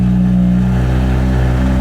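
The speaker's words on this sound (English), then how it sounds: "I actually start my car with the garage door closed just for a split second, just to be a nice neighbor, you know, the initial startup" BMW F80 M3 engine starting up inside a closed garage, a loud, full-bodied roar with a deep, steady rumble that holds strong for the whole short moment, close and alone.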